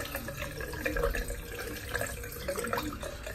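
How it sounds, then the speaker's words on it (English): Hot water from a tap flows over razor blades, a steady gentle rush and splatter into a sink, fairly quiet and uninterrupted. "Just run a bit of hot water through the blades"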